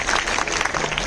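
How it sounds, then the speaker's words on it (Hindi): A brief burst of dense audience applause for a child at a prize distribution ceremony, loud and steady throughout. "ताली बजाएं बच्चे के लिए।"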